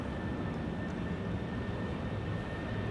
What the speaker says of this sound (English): This is KLM Flight 1353 to Prague, 737-700, the Papa Hotel, Bravo Golf Mike.